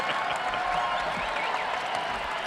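A crowd cheering and applauding at a Bassmaster Classic bass fishing weigh-in on Grand Lake, a steady, dense wash of clapping and cheers from a large audience that holds without pause.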